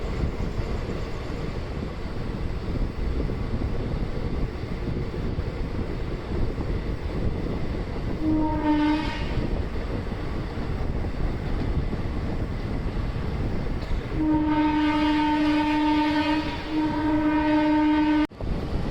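The Nilgiri Express pulls into Salem Junction with a steady rumble of rolling rail wagons and wind buffeting. A short horn blast sounds midway, then a longer sustained horn call near the end.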